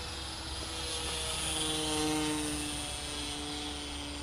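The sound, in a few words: Harbor Freight P-51 Mustang RC model plane flying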